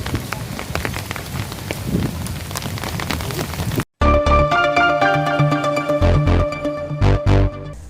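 Heavy rain pours over the flooded Jawaharlal Nehru Stadium, a Dasara festival venue, as a steady dense hiss, cutting after a brief gap to a louder, closer drumming of rain with sharp splashes and strikes.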